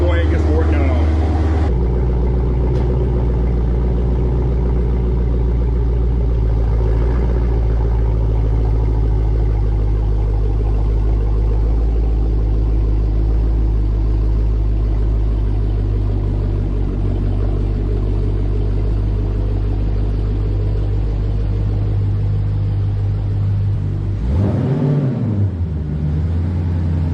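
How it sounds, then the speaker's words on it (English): A 2022 Dodge Charger Scat Pack Widebody runs with a loud, deep, steady engine rumble that sustains for nearly half a minute, with a short swelling rev near the end. "we're gonna get the car started. That thing sounds beefy."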